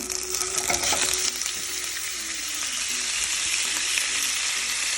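Diced chicken hits a skillet of warmed olive oil and sizzles loudly and steadily, with some stirring and clatter near the start, then an even hiss. Close and clear, with no talking.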